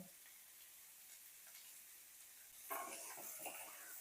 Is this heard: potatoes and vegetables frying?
yes